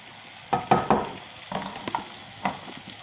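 Potatoes frying in a pan, crisping under a soft sizzle, with several clattering scrapes and turns of a utensil close up.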